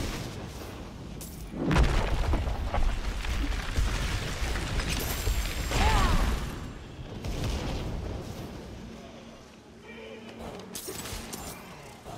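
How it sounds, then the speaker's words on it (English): A booming explosion in Diablo 4 on Xbox Series X erupts from dense, continuous game noise, with loud broadband surges near two and six seconds before the clatter eases off. "That after explosion totally got me."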